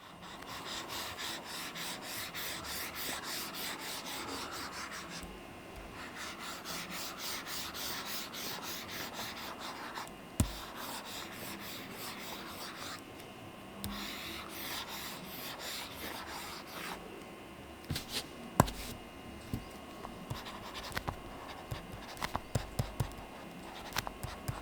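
A pointier Lamy nib scratches steadily across the face of an eInk tablet, a faint continuous rubbing hiss with small ticks as strokes lift and restart.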